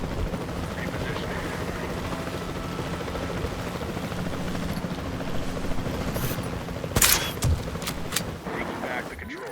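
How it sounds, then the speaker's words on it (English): Capture team helicopter in Jurassic World Evolution 2 droning steadily throughout with rotor and engine noise, joined late by sharp bursts like tranquilizer gunfire and a short voice fragment. "the sensible thing is to take a capture team helicopter"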